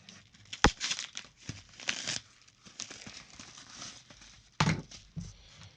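A well-taped mail package of sports cards is torn open by hand, giving close crinkling, ripping and crackling bursts with a couple of sharp louder tears amid quieter handling, without talking.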